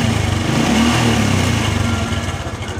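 A motorcycle engine running loud and close right after an electric-starter start, steady throbbing and slightly rising, with no talking.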